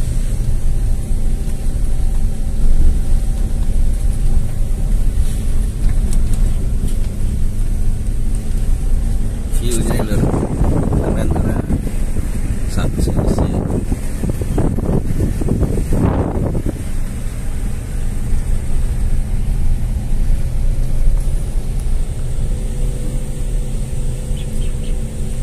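A car crawls up an extremely steep, narrow hill road in first gear, its engine a steady low drone under heavy wind rumble, with a louder strained surge midway. People talk over it.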